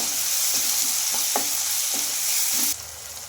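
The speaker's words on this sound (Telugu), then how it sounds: "ఇందులోకి కొద్దిగా అల్లం వెల్లుల్లి పేస్ట్ అయితే వేసుకోవాలి ఇది కొంచెం పచ్చివాసన పోయే వరకు అయితే ఫ్రై చేసుకుందాం" Ginger garlic paste frying with tomatoes in a hot pan gives a steady, close sizzle, with soft stirring scrapes now and then before the hiss drops off near the end.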